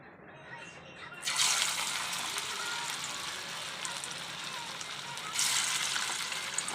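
Food pieces dropped one by one into hot oil sizzle loudly in a pan, with a sharp rise in crackling after a quiet start and a second surge near the end, all close and steady.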